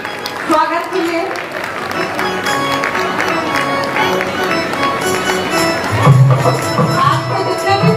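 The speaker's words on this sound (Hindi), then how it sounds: "देखिए तालियां बजनी चाहिए स्वागत के लिए।" An audience at a Jain women's festival gathering claps steadily for several seconds to welcome family members onto the stage, with someone speaking over the applause.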